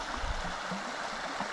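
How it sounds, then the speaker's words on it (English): Water in a creek near an old mine flows through a deep spot with a soft, steady rushing and gurgle, quiet and continuous, with no voices over it. "And then there is the creek itself."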